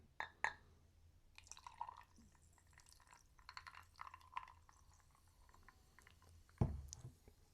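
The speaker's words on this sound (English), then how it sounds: "let's pour a little drink" A drink is poured quietly: faint drips, small liquid trickles and soft glassy clinks spread over several seconds, ending with a louder knock as the bottle or glass is set down.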